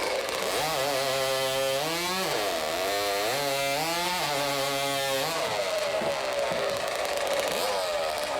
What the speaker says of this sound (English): a purpose-built chainsaw, the 80 horsepower driving the chain at 240 kilometres per hour